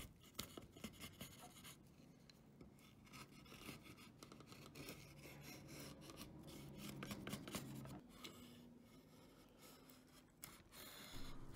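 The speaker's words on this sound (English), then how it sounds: "there should be more ASMR videos that are just draw knife work" A draw knife shaves along wood in long rasping strokes, dry scraping and shearing sounds repeating closely and quietly, with no talking.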